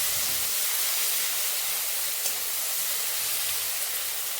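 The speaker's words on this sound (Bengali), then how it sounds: "এবার এর মধ্যে এই পেঁয়াজ কুচিটা দেব, দিয়ে ভেজে নেবো একটু।" Chopped onion dropped into a hot pan for a fish curry gives a steady, even hiss of frying, close and unbroken, with no talk over it.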